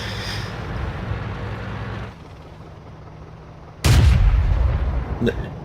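Tank cannon fire in the video game World of Tanks, heard as one loud, sudden boom partway through, followed by a rumbling tail and a sharp metallic clank over low engine hum.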